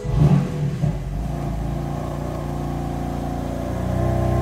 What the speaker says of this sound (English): Okay, so now I have the ID tags with me and the car will start.